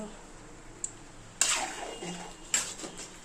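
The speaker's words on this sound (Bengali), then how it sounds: "সবজি কষানো হচ্ছে" Vegetables stir-fried in a pan for a home-cooked birthday meal, with a few sharp metallic clinks of a utensil against the pan spaced through a soft, steady kitchen background.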